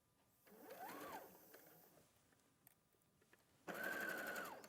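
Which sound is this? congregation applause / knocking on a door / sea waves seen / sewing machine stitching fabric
sewing machine stitching fabric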